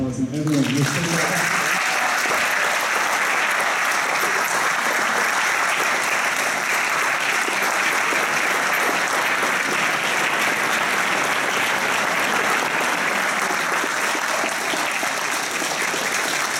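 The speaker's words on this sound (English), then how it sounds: "let's give them another round of applause" Concert audience at a jazz concert applauds for the seniors in a sustained, dense round of clapping that begins abruptly after a brief spoken moment and holds steady and loud throughout.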